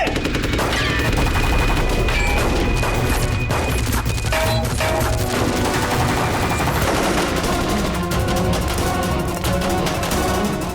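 Dense, loud bursts of gunfire crash and rattle almost continuously through a tense horror police-drama scene, with rapid shots, impacts and booms layered over dramatic background music.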